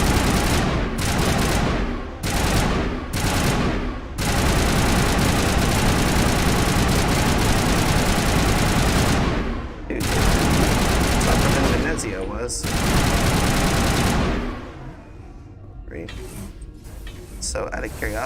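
Sustained automatic gunfire from the player's weapon in Mass Effect, loud and continuous in long bursts broken by short gaps, then tapering into quieter sporadic sounds near the end.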